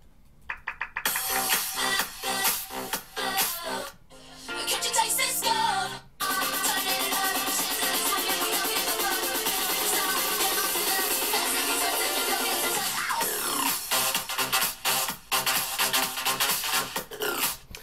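Bass music bootleg built on a track, loud and dense with punchy rhythmic hits, a brief drop-out near four and six seconds, then a sustained wall of heavy synth before choppy beats return.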